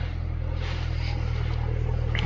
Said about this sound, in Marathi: आता ट्रॅक्टर इकडे येतोय